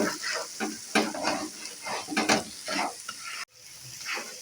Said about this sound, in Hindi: तो मसाले को यहाँ पे हम अच्छे से हिलाएंगे और इसकी जो है वो अच्छे से भुनाई कर लेंगे।